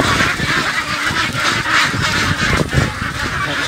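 A restless flock of ducks, one of them sick, shuffles about during weighing: dense, overlapping quacks and honks sound close and loud without pause.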